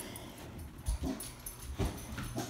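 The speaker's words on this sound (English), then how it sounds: "Why are the dogs barking? The dog's barking because they're leaving." Dogs give short, muffled yips and whimpering barks, about three quick bursts at a moderate distance indoors, with low household background noise.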